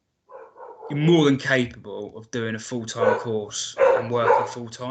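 A dog barks and yips in the background of a home, with several short bursts mixed in under continuous speech from a man.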